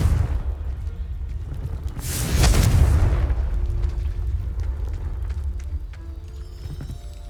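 Confringo spell in the video game Hogwarts Legacy sets off a deep rumbling explosion that swells to a burst partway through, then trails into a long low roar with scattered crackles and no talk.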